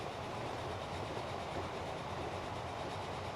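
A locomotive train in Transport Fever runs down the main line, a steady rumbling rail roar with faint rhythmic wheel clatter, constant and fairly loud with no voices.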